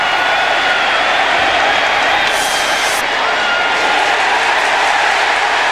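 A stadium crowd at a 2003 New England at Miami NFL game roars steadily after a flag on a touchdown, a dense, sustained wash of distant cheering and noise that swells slightly midway.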